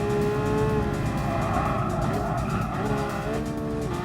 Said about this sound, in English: I keep like getting thrown into a drift